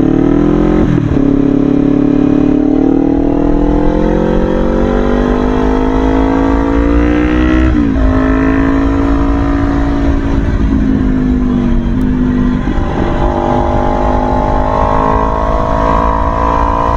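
A Kawasaki Ninja 500 engine hums loud and steady while riding, its pitch climbing and dipping through gear changes and throttle shifts, with constant wind rush and no talking.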